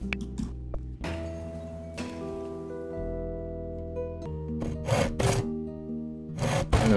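Repeated rasping strokes of a saw on wood in the video game Oaklands play over a steady backdrop of sustained game music, with several sharp, bright bursts near the end.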